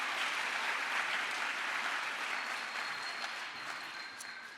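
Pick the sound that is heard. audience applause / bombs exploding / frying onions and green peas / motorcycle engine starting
audience applause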